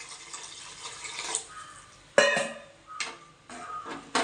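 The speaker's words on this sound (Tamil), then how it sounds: "இப்போ தேவையான தண்ணியை ஊற்றிக்கணும்." Water pouring into a cooking pot of kurma in a few separate bursts, splashing and gurgling with short quiet gaps between pours.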